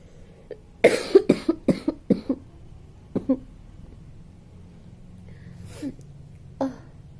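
Dry coughing in a quiet room: a tight cluster of short hacking coughs, a brief pair a moment later, then a few faint isolated coughs spaced out toward the end.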